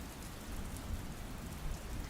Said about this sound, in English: Don't trust the sound of rain on your fly